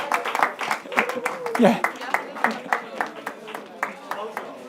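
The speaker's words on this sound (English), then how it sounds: "Give a big clap to Ure." Audience clapping for a participant at a final event of an African business challenge, a loose crowd of hands beating a fairly regular rhythm nearby, with a brief voice in the middle.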